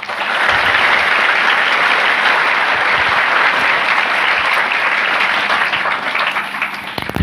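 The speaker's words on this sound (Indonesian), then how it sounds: "Kasih aplaus buat beliau." Audience applause fills the hall at an Islamic boarding school gathering during a community management lecture, with dense, sustained clapping at a steady level throughout that eases slightly near the end.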